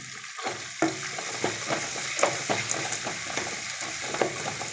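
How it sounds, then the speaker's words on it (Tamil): Cumin, tomato, turmeric and asafoetida frying in a pan, giving a dense crackling sizzle with frequent spattering pops and stirring scrapes, close and continuous with no talk. "கொஞ்சம் சீரகம், இதெல்லாம் பொரிஞ்சு வரட்டும்."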